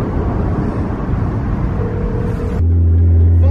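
A thrashed, drift-damaged BMW E36 driving along, its engine rumbling loudly and steadily close by, settling into a deeper, constant drone near the end.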